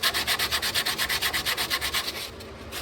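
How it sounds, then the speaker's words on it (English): Sandpaper rubs a wooden boat hull in quick, even back-and-forth strokes, about eight per second, close and loud, before slowing and fading near the end. "You take your sandpaper, and later on you're going to sand your whole hull this way."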